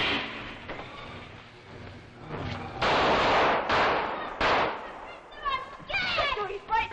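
Gunshots from a 1952 Tales of Tomorrow Frankenstein television drama: several loud, sharp bursts of gunfire in quick succession, mixed with old broadcast-style dramatic sound and brief voices.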